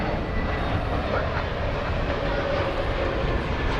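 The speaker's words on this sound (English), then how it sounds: "Yes, it's an Airbus A321 Neo" An American Airlines Airbus A321neo arrives from Seattle at DFW Airport, heard as a steady broadband jet roar with a low rumble, fairly loud and sustained throughout, with no clear talk.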